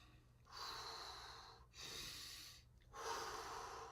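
Slow breathing exercise, in through the nose and out through the mouth, as calming before a driving test: three long, close, airy exhalations, each lasting about a second, separated by short pauses, with no talking.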